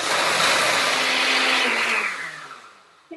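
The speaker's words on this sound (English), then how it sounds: "Put it on the blender and blend it up." Soaked cashews and water whir loudly in a blender, a dense steady roar that gradually thins and softens as the motor winds down near the end.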